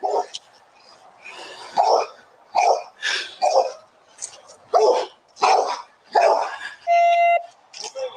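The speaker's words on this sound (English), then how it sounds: "the dogs are mauling the body" Dogs bark and snarl in short, loud, close bursts during an attack, with a brief radio-like tone near the end.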